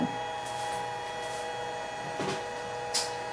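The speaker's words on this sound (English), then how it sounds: "I love the way this little printer prints the photos" Canon Selphy CP900 compact photo printer running a print, a steady mechanical whir and hum with faint soft clicks and shuffles of paper feeding, fairly quiet and close.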